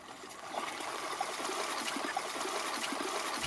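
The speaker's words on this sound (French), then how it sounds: "l'eau sort du casier pour rejoindre les canaux" Water trickles and streams out of a rice paddy basin through an opening in a small earthen dike into the canals, a steady, soft, low-level flow with faint gurgles and no talking.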